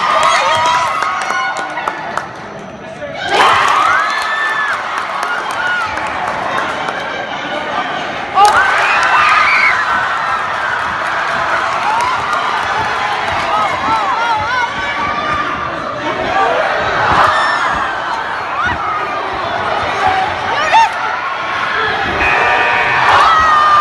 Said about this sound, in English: The crowd is like screaming. Everyone's going crazy.